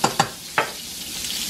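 Garlic tossed into melted butter in a pan for a salmon and asparagus garlic butter sauce, with a few sharp stirring scrapes over a soft, steady sizzle.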